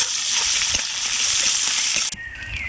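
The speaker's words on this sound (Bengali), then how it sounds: "আদা রসুনের পেস্টটা দিয়ে কাঁচা গন্ধ যাওয়া অবধি ভেজে নেব" Ginger-garlic paste sizzles and fries in hot oil with onions for a village-style sole fish curry, a steady close bright hiss that breaks off abruptly near the end.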